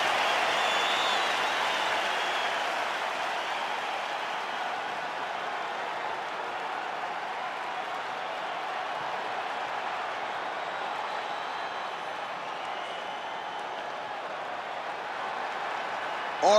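A capacity arena crowd applauds and roars in a steady, dense wash before a heavyweight championship fight in EA UFC 5, with commentators talking over the noise throughout.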